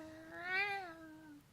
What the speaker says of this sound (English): cat fight outside.